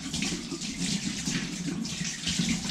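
Tap water runs steadily into a sink during hand washing in a home kitchen while a winter meal is cooked, a continuous close splashing stream with no talk.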